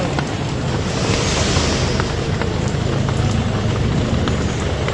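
Sudden gusty rain pelts a shop roof, a dense steady roar of close, loud drops and wind that holds unbroken throughout.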